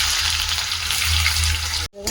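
Onion fries in hot oil for egg bhurji, a steady close sizzle that cuts off abruptly near the end.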